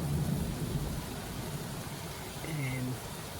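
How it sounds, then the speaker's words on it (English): Rain falls steadily on a rainy night with low rumbling that fits distant thunder, a continuous wash of noise throughout, with faint tonal sounds near the end. "sit and watch the rain"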